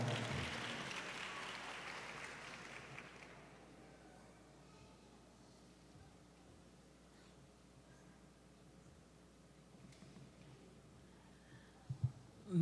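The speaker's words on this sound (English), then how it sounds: "let's give her a round of applause as she makes her way to the stage" Audience applause at a press conference as a speaker walks to the stage, loud at first then fading within a few seconds into quiet room noise, with a couple of faint knocks near the end.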